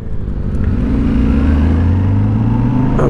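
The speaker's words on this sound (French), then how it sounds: "On a une moto qui est quand même assez vive." A lively motorcycle passes on an open road, heard from aboard a Yamaha Ténéré 700 World Raid as a steady, loud engine drone whose pitch rises gradually, with continuous wind and road rumble throughout.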